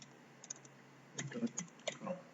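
Light taps on an iPhone's on-screen keyboard while an Apple ID is entered, heard as soft scattered clicks, sparse at first and then a quicker cluster, close and quiet.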